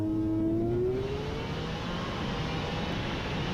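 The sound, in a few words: race car run, in-car footage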